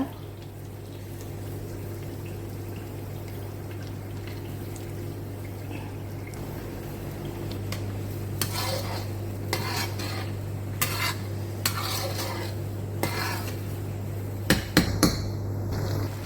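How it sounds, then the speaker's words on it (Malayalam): Prawns fry in bubbling hot oil in a pan, a steady low sizzle and hum with scattered clinks and scrapes of a utensil growing busier toward the end, no voices. "അതിനകത്തോട്ട് നമുക്ക് ചെമ്മീൻ ആഡ് ചെയ്ത് കൊടുക്കാം എണ്ണ നല്ല കുതു കുതാ കുതിച്ചിടക്കുന്നുണ്ട്"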